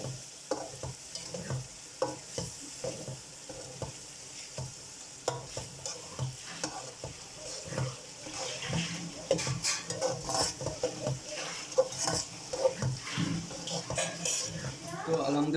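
Cauliflower with peas is stirred and fried in a pan for vegetable biryani: a soft background sizzle with repeated scraping clinks of a metal spoon against the pan, growing busier and louder toward the end.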